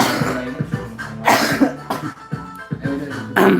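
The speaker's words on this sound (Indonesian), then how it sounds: "Lagi batuk." Several short, rough coughs come in quick succession, close and loud, with brief pauses between bursts.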